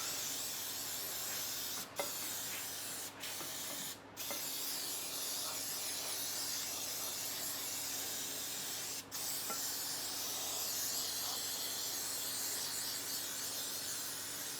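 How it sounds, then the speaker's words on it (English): Cooking spray hisses steadily from a can into a bundt cake pan in one long continuous spray lasting well over ten seconds, with a few brief breaks and faint clicks along the way, close and fairly quiet. "And don't be afraid to add spray to it because it needs it."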